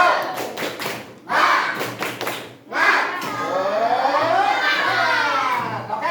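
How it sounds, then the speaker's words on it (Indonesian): A class of children performs the 'tepuk semangat' clap chant in a classroom: a few sharp, rhythmic claps and thumps, then the children's voices chanting together, loud and close. "Ya, tepuk semangat."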